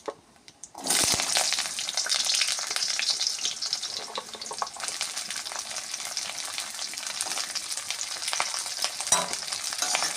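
Potatoes and carrots fry in oil with cumin seeds and bay leaf while being stirred, a loud continuous sizzle that starts abruptly, with scraping spatula strokes throughout.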